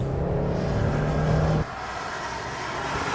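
A 2022 Nissan Frontier pickup truck engine drones under heavy acceleration, its steady rising tone ending abruptly in a lower road rumble.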